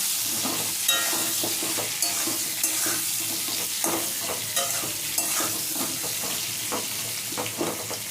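Pointed gourd and potato fry in oil with a constant hiss and crackle, while a utensil scrapes and taps the pan in irregular strokes every second or so, close up and without talk.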